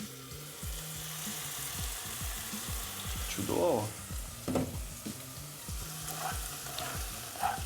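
Onions fry and sizzle in a pot outdoors while Hutsul-style bograch is being made. A steady sizzle runs throughout, with occasional stirring clatter and a short spoken word.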